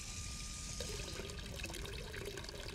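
Water pours in a steady, loud rush onto a fire in the Hello Neighbor: Hide and Seek video game. The hissing splash runs continuously and evenly for the whole stretch, with no talking over it.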